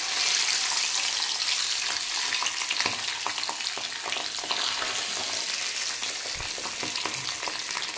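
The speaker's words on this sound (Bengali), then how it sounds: "एबार एक एक करे पाबदा माछगुलो भेजे नेब।" Pabda fish frying in hot oil gives a loud, continuous hiss and crackle, with scattered pops and faint clinks throughout.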